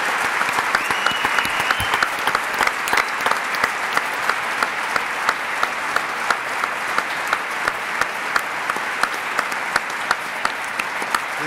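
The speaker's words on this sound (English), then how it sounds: "Let's make sure to give a round of applause to all our candidates" Steady applause from an audience at an evening education forum, cheering gubernatorial candidates: dense, even clapping that carries on for the whole stretch at moderate volume with no talk over it.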